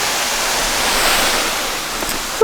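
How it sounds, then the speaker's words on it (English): A waterfall on a hiking trail near Columbus roars as a steady, loud broadband rush, continuous and close, with no talking over it. "let's go down and see this waterfall"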